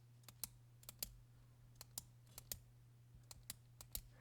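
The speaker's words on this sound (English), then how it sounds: "It has a really nice click." Sharp, clean clicks from a matte black Pilot G2 Limited gel pen, pressed repeatedly in irregular pairs and singles at close range over a steady low hum, no talking.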